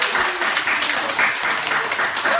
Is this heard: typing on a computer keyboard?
no